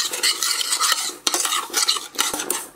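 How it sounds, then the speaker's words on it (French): A utensil scrapes and clinks against a metal saucepan in quick, uneven strokes, close up, as sugar and water are stirred for caramel. "Je mélange."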